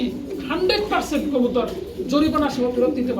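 Domestic pigeons coo in a home loft in soft, throaty bursts mixed in with a voice talking over them at close range.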